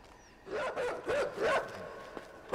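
A dog in the video game Inside barks and yelps in several short, rising-and-falling bursts, fairly close and clear, with quiet background between calls.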